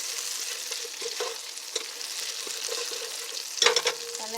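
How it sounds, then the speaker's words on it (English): A slab of butter melts over low heat into leftover beef juices in a stew pot, making a gentle, steady sizzle with light stirring scrapes and a brief clatter near the end. "with the heat on low, I'm going to add just a slab of butter. Mix it in with the leftover beef juices."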